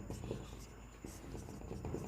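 Marker or chalk scraping across a board during a Hindi-language chemistry lesson on ionic solids, steady soft scratchy strokes in a quiet room with faint room noise and no talk.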